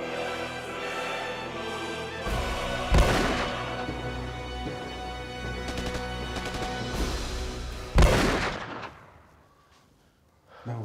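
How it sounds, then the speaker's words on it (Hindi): Two sharp, loud gunshot-like bangs burst out of a room in a comedic domestic scene, the first near three seconds and the second near eight, over a steady music bed that fades toward the end. "ये अंदर से गोलियों की आवाज कैसी आ रही है?"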